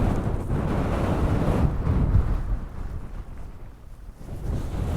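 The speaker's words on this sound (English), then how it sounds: "The wind is ferocious tonight." Strong wind at night on the Cheviot border ridge, a loud, continuous roar buffeting the microphone and surging in gusts with no talk.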